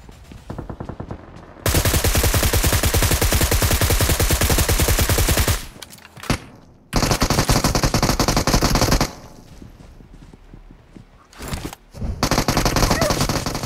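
Rapid automatic gunfire from a BGMI / PUBG Mobile battle royale match, loud and sustained in long bursts of machine-gun fire broken by short pauses and quieter stretches.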